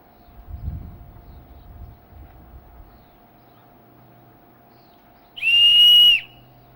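Low rustling handling noise, then a short silence before a single bright, steady whistle-like tone from a handmade flute being tested sounds for about a second.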